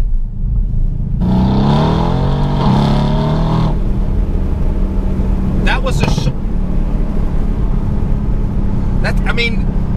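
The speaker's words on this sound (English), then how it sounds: "I've never on the internet ever seen a C63 or heard a C63 sound this way" A modified Mercedes-AMG C63's engine revs hard, its pitch sweeping up and down, then sharp throttle blips follow, with people talking over the steady roar.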